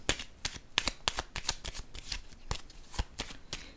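Tarot cards being shuffled and drawn by hand, a close series of crisp riffling snaps and flicks in an uneven rhythm, with no talk.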